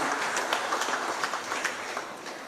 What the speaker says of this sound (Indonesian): Berikan tepuk tangan kepada Bapak Pramono Anung.